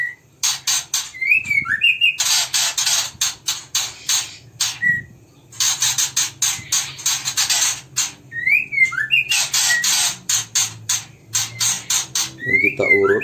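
Injured white-rumped shama (murai batu) chick that fell and cannot use its legs, giving repeated sharp chirps and rising whistled calls close up, with a person talking quietly in the background.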